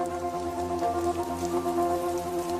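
Steady rain falling on leaves in hummingbird habitat, a dense even patter with a continuous layered hum beneath it, close and constant, with no voices.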